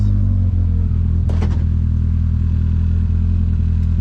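A 2022 Polaris RZR Pro R 4 side-by-side runs at speed on a high-speed trail, its engine droning loud and steady up close with a few brief clattering knocks from the chassis.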